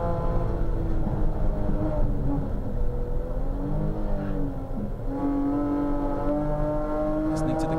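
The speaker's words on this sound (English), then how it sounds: "Listening to the car at work," Race car engine at the Bathurst 12 Hour race in 2011, a steady loud mechanical drone with shifting engine tones as the car works through the circuit, with a commentator talking throughout.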